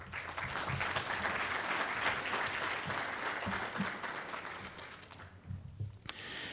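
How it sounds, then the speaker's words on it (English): Audience applause at a university leadership award ceremony, dense steady clapping from a crowd for about five seconds, then fading out with a few scattered claps and a brief sharp clap near the end. "Yeah, you can clap."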